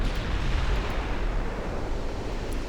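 Torpedo impacts exploding against ships in the naval warfare game Ultimate Admiral Dreadnoughts, a dense rolling roar of blasts blending into a continuous rumbling wash.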